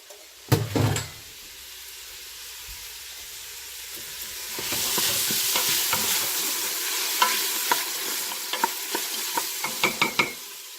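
Chopped celery goes into a pot of sausage lentil soup and gets stirred, starting with a few sharp knocks, then a soft sizzle and repeated scraping stir strokes that grow busier toward the end, close and without talk.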